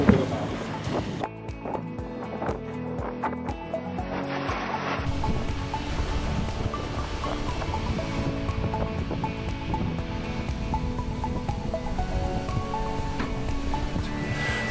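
Ocean waves wash and hiss steadily around a Bali sailing catamaran out at sea, a continuous moderate surf noise with some wind and boat sounds mixed in.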